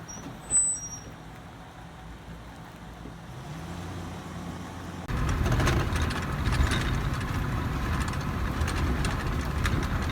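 A 34-foot RV's engine drones while it tows a second 21-foot RV on the road, starting as a quieter rumble before a louder, steady roar of engine and road noise sets in for the rest of the stretch, with no voices.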